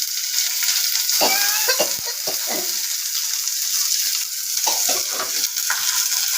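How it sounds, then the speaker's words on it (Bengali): Onion frying in hot oil for methi dal sizzles steadily while a utensil scrapes and stirs it in short, close strokes, with no voices over the cooking. "তেলের মধ্যে পেঁয়াজটা দিয়ে দিচ্ছি"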